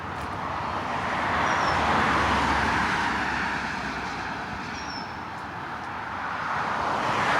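Cars passing on the Lake Ontario State Parkway, heard from a nearby nature trail in Greece, NY: a steady broadband roadway roar that swells and eases as vehicles go by, with faint high tones above and no talk.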